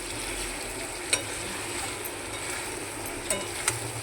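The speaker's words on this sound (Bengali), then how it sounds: "এবারে কষানোটা হয়েছে দেখো কেমন তেল ছেড়ে দিয়েছে" Masala frying in oil in a pan, a quiet steady sizzle with a few sharp clicks of a spoon stirring, close up and without talk.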